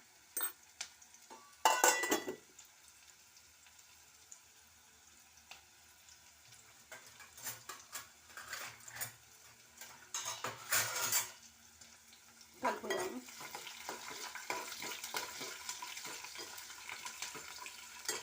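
Mustard seeds and cumin frying in a pan for a tomato dish, faint sizzling and popping mixed with the scrape and clink of a utensil stirring, in scattered bursts that grow busier toward the end, with no talk.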